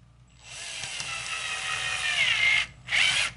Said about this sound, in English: I'm being careful not to drill these in too fast